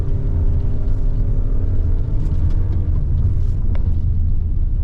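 Toyota Innova Hycross ZX with a petrol non-turbo engine accelerating hard along a long open stretch, a loud steady engine drone and road rumble heard from inside the cabin, the pitch rising gradually, with no talking.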